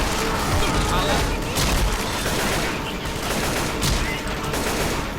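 Sustained gunfire from Left 4 Dead 2, a dense, continuous rattle of shots with players talking over it.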